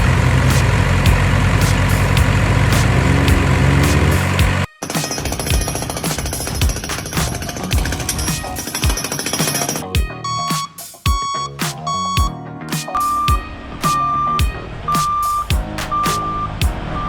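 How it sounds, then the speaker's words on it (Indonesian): A hydraulic hammer excavator pounds rock at a mine with loud, rapid, repeated impacts over engine rumble. Intermittent reversing beeps sound near the end. "Hammer Excavator atau Hydraulic Excavator adalah ekskavator penghancur batu"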